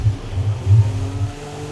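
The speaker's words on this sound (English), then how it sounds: "I had no engine for a second there." A McLaren Honda Formula 1 car engine in F1 2017 during the Australian Grand Prix: a short, loud, low rumbling drone that swells and dips unevenly and carries no voices.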